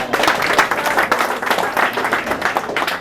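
An audience applauds with dense, sustained clapping that keeps a steady, lively intensity from start to finish, with no voices over it.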